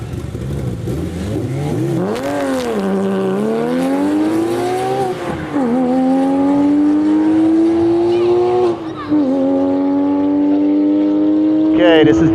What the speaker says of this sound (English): listen for that beautiful Porsche Flat 6 music.